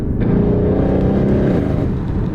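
A tuned Mercedes GLC63 AMG engine accelerates hard, giving a loud, steady, close-up roar that holds without a break from start to finish.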